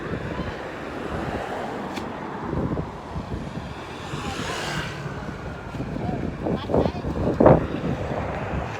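Cold wind gusts buffet the microphone outdoors in a continuous rough roar, swelling in bursts toward the end while someone talks over it.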